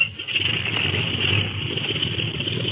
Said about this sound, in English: Well, they're warming up the motor.